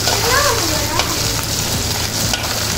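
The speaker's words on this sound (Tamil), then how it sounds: "இன்னும் கொஞ்சம் நல்லா பொரியட்டும்." Steady loud sizzling of dried fish frying in a hot pan, close up, with a voice speaking over the constant crackle.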